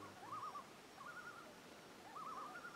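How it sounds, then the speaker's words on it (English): Loons call across a lake at a wilderness campsite. Faint, wavering tremolo calls sound in three short bursts over quiet background, with no talk. "The loons are doing a racket, man."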